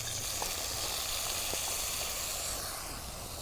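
Eggplant, bitter melon and other vegetables sautéing in a pan give a steady, soft, continuous sizzle and hiss, close and unbroken, with no talk.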